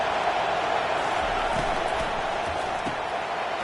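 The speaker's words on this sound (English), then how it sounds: "Decibels rising as the crowd gets behind this defense on third down." Stadium crowd at a South Carolina football game roaring on third down, a dense, sustained wall of cheering and noise from a large audience, loud and unbroken throughout.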